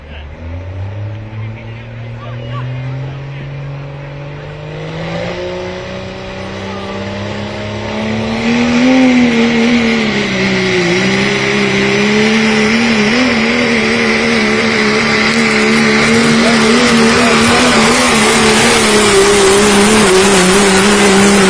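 A diesel pulling truck, the Quality Diesel Performance Iron Maiden, revs and drones loudly as it pulls a sled, the engine note climbing and then holding at a heavy roar, with an announcer talking over it.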